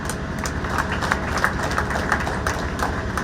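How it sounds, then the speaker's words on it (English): An audience applauds road builders at a building commissioning in Juba, a steady, dense patter of many hands that holds at an even level throughout. "Please give them a round of applause"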